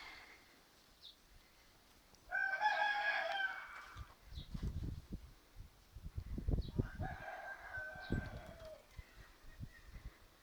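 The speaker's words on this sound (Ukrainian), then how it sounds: "Курята ростуть." Chickens and a rooster in a rural yard, with a rooster crowing loudly twice in long drawn-out calls, separated by scattered clucks and low thumps from the flock.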